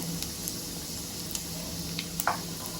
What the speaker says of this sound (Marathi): त्याच्यानंतर कढीपत्ता आणि मिरच्या हिरव्या मिरच्या हे चांगलं असं भाजून घ्यायचं